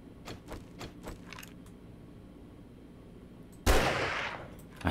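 A player shoots a zombie in the video game 7 Days to Die: a few faint muffled shots or impacts at first, then one loud, sharp gunshot with a decaying tail and a small knock at the end.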